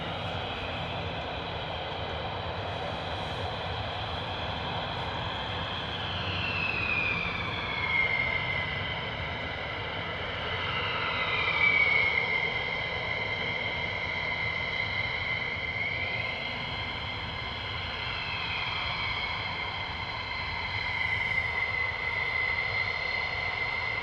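A USAF F-15E taxiing across the runway at RAF Lakenheath makes a steady jet whine, with tones drifting up and down over a broad engine roar. The sound holds continuously at moderate distance with no talk.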